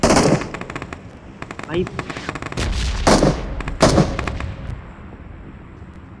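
Loud automatic gunfire from a shooter video game rattles in rapid bursts, with heavy reports and a lingering echoing tail between volleys, while a voice briefly speaks over the shooting.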